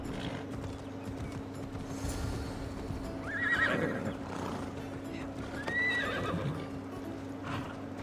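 Horse in Assassin's Creed Odyssey whinnying twice over a steady bed of hooves clip-clopping at a gallop, with game ambience and a constant low hum underneath.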